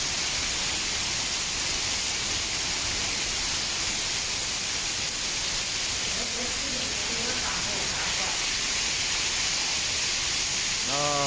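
Heavy rain pours steadily outside a shop, a dense, even hiss that fills the whole clip, with faint voices and a brief tonal sound near the end.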